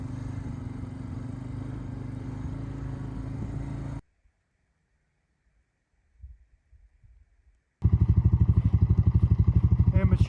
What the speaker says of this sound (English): get the ATV down here and do the hard work